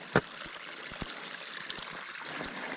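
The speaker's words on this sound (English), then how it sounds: "Check out this stream. It comes right out of the ground." A small stream of water flowing straight out of the ground on a mountainside trail, a soft continuous trickle with a sharp knock near the start and faint clicks.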